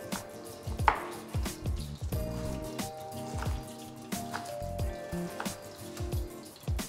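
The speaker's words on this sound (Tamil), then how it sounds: "கியூப் கியூபாக நறுக்கிக்கோங்க," A large onion is cut into cubes on a board in a studio kitchen, giving a string of close, crisp knife chops at an irregular rhythm over a soft background hum.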